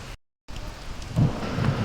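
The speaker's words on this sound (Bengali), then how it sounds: "বাইরে প্রচণ্ড বৃষ্টি হচ্ছে, বৃষ্টি থামলো তারপরে যাব" Heavy rain pours outdoors on an afternoon, a steady broadband hiss with a brief dropout near the start, then swelling louder with low rumbling gusts, no voices.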